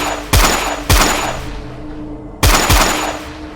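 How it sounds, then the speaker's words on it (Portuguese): Several loud gunshots fired in separated bursts, two quick cracks, a pause, then two more, each with a sharp attack and a long decaying tail, with no voices present. "E na mesma hora, eu ouvi tiros."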